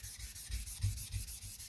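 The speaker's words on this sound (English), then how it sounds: "what I'm going to do is dress this stone one more time to make sure the abrasive is nice and fresh" A sharpening stone is dressed with a 1K Nagura dressing stone by hand, making a rhythmic gritty scrubbing, back and forth at a steady pace, close and clear with no voices.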